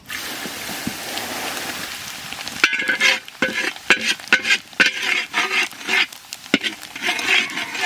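Coarsely ground spices drop into mustard oil in a kadai for Bengali ghugni, bursting into a loud crackling sizzle that swells midway, with irregular spatter pops and stirring scrapes.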